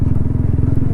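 Motorcycle ridden on a road, picked up by a helmet-mounted mic: a steady, close engine drone with rapid regular firing pulses and a touch of wind rush throughout.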